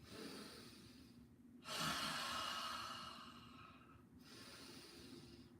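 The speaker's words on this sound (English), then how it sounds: "exhale through the mouth as you come down" A long, breathy exhale through the mouth during a guided breathing exercise, soft and close, swelling then tapering over a couple of seconds, followed by a quieter breath.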